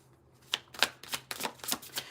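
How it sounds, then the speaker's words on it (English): A slick tarot deck is shuffled by hand, giving a quick run of soft, close, crisp riffling clicks and slaps with nobody talking. "I really like the way this one shuffles and feels in my hands"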